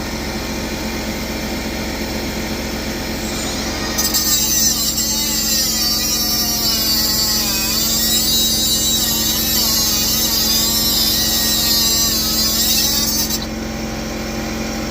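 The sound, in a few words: power tool cutting off a bolt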